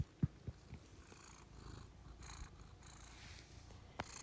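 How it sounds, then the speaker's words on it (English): A pet cat purrs in a continuous, rhythmic low rumble, faint and close, with a couple of soft taps at the start. "she's purring real loud"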